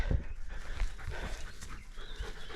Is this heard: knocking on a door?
no